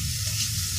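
Spice masala frying in oil in a pan for chana dal with paneer gives a steady, close, even sizzle throughout the brief moment, with no voices.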